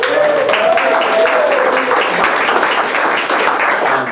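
An audience claps and applauds steadily and loudly throughout, a dense crowd ovation for a couple's 50th wedding anniversary celebration, with a faint voice rising briefly near the start.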